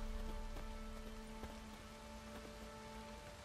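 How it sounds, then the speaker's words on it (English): Rain in The Witcher 3: Wild Hunt patters steadily across a surface with occasional louder drops, a constant soft wash with a faint tonal hum beneath, no voices. "Also, it's raining."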